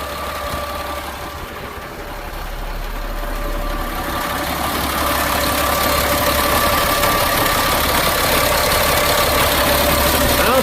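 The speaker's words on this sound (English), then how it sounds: "It's a strong running engine." A 2000 Freightliner FL70 truck engine runs steadily at idle with a deep, continuous rumble that grows slightly louder partway through.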